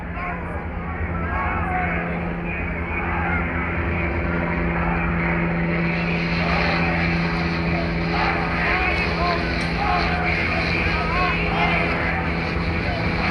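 Steady loud rotor and engine drone of a police helicopter overhead at a street demonstration in Richmond, with crowd noise and voices underneath throughout.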